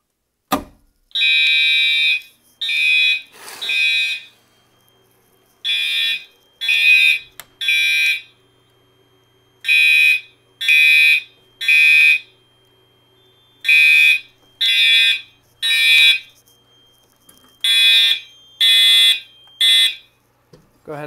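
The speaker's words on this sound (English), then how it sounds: "Go ahead and silence the alarm." Fire alarm on a Notifier AFP-200 panel system, set off by a lift-and-pull station, sounds loud and near in repeating bursts of three high electronic tones with short pauses between groups.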